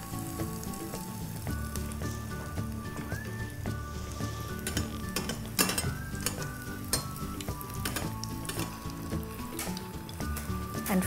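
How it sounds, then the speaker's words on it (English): Malpua batter frying in ghee in a pan, a steady close sizzle running throughout with occasional clinks of utensils and a musical tone faintly beneath. "Put a ladleful of the batter gently into the pan."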